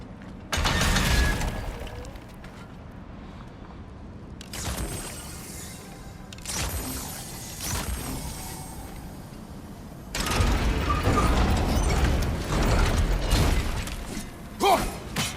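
Heavy gate gear mechanism in God of War Ragnarök grinding and rumbling in several loud bursts, with thuds and clanks between quieter stretches.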